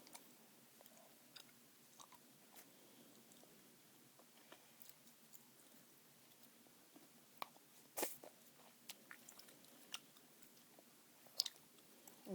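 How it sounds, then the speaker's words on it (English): Gum being chewed close to the mic in a quiet room, with soft, steady wet mouth clicks and smacks and a few sharper snaps near the end. No talking. "I'm going to chew on this side for a bit"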